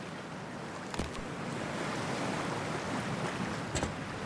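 Splash into freezing water in the Cyberpunk 2077 video game, a broad rushing wash of water and surf-like noise that holds steady, with a couple of brief sharper splashes rising out of it.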